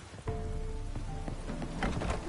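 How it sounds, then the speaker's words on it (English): Steady rainfall in The Witcher 3 Next Gen on PS5, a continuous hiss of falling rain with soft scattered patters and faint tonal game ambience underneath. "Looks like rain."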